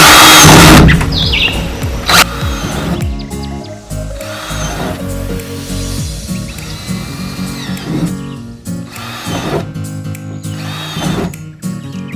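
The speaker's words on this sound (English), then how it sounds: "Okay, so I'm ready to drill the holes." A power drill whines and squeals in short bursts, with rattling and clunks between runs, close and fairly loud.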